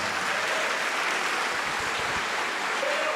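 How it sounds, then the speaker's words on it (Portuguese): Church congregation applauding, a dense, continuous wash of many hands clapping at steady loudness throughout, with no speech over it. "Vamos dar uma salva de palmas para o nosso Pai que está nos céus."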